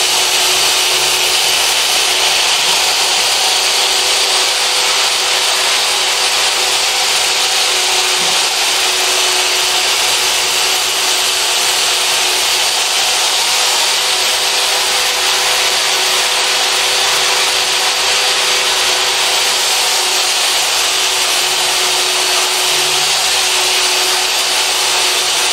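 A power tool at about 4,500 RPM grinds a weld seam off a stainless steel tube under light pressure, giving a steady, loud, high-pitched abrasive whine that holds evenly throughout without pause.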